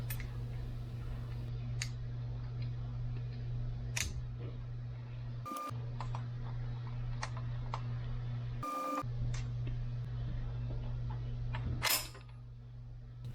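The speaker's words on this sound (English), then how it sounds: "Gonna get the screw and handle together, wiggle this into place, screw down, and push forward." Small metal parts of a Just Right Carbines quad rail 9mm pistol are fitted together by hand, with quiet creaks, clicks and a few sharp snaps over a steady low hum, close up and without speech.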